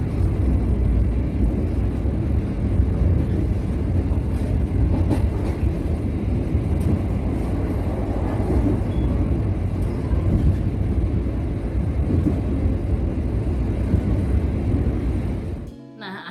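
A train stands at Gundih railway station with a steady loud rumble and engine drone that runs throughout before cutting off abruptly near the end.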